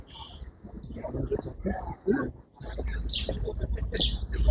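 Many birds chirping and cooing around a busy outdoor spot where small children play among them, with several people talking over the calls throughout.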